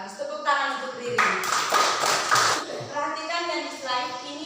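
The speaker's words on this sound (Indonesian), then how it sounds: "bagus, tepuk tangan untuk Riri" Brief classroom clapping for a student breaks out in the middle, a short burst of several claps, with a teacher talking before and after it.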